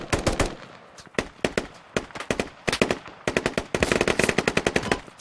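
Pistol gunfire in the squad shooter game Squad comes as loud, close shots in quick volleys, with single cracks giving way to a rapid string of shots near the end.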